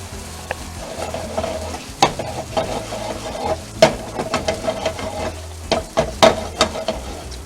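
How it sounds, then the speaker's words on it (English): A spoon stirs chicken adobo sauce reducing in a pan, with steady soft sizzling underneath and irregular scraping and tapping strokes against the pan. "We'll stir it up for about 5 minutes"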